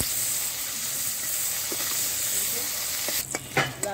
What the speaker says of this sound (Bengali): দাঁড়াগুলো ভেজে নেব।